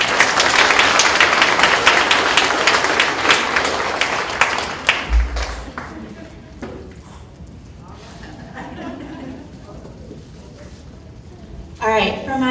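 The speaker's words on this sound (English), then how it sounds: "So everybody, please give Miss Caroline Johnson a big round of applause." Audience at a school board meeting breaks into loud, dense applause that runs for about five seconds, then dies away into scattered room noise and talking voices.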